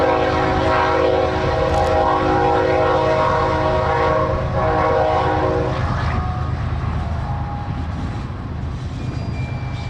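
A Canadian Pacific manifest freight train passes close by, its horn blaring loudly for several seconds over the heavy rumble of wheels and cars, which keeps going after the horn stops.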